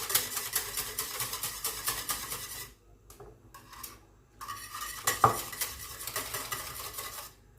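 A spoon scraping and clinking against a pot while a caramel dessert mixture is stirred, in brisk rhythmic strokes that pause for a moment and then resume, close and clear with no talk.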